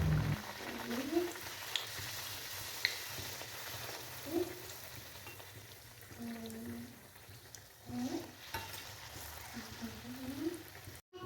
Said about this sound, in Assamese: এয়া মই লুচিখিনি ভাজিবলৈ আৰম্ভ কৰিছোঁ।